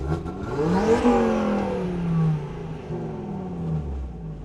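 A tuned Audi RS3 saloon, stage 3 at 770 bhp, revs hard, its engine note rising and falling through several sweeping pulls with a raspy, loud growl and whirring overtones, close by with no speech.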